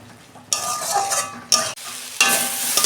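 A spiced mixture with salt, chilli powder and a green chilli is stirred in oil in a pan; bursts of scraping and sizzling come in three loud surges over a steady low frying hiss, with no talk.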